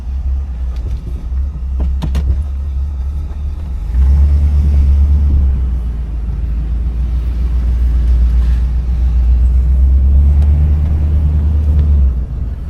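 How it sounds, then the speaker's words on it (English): Deep, steady V8 engine and exhaust rumble from a 1975 Oldsmobile Delta 88 convertible cruising with the top down, with a couple of brief clicks early on and the drone swelling slightly as it accelerates. "The exhaust sounds good."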